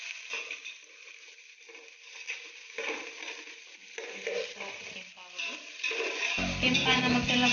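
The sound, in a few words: frying onions in a pan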